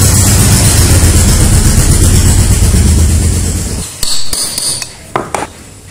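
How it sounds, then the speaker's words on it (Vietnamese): A steady low machine drone fills most of the clip, then cuts out and gives way to a few sharp, loud metallic knocks as a seal is driven into an air compressor head during a bearing replacement. "Tiếp theo mình sẽ đóng phớt nhá."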